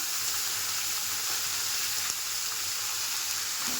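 Cauliflower and winter vegetables frying in a pan with a little oil, giving a steady, dense sizzle throughout with faint stirring clinks.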